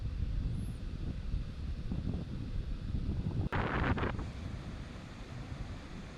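Wind buffets the microphone over a steady wash of ocean surf at Cape Point in South Africa, with a brief brighter rush of wave noise midway and no talk.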